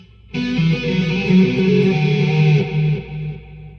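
A heavily distorted electric guitar plays a quick sustained phrase from 1990 riffs, with shifting notes, loud and close, ringing out before fading.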